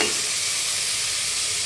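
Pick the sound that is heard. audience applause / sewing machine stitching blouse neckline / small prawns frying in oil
small prawns frying in oil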